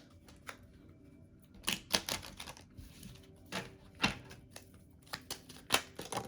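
Tarot-style shadow work cards shuffled by hand in a card reading, giving quiet bursts of crisp riffling and slapping clicks at irregular intervals, close and fairly soft, with no talking.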